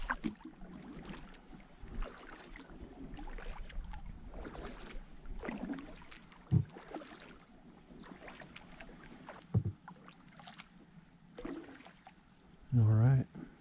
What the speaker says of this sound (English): Now I'm going to paddle.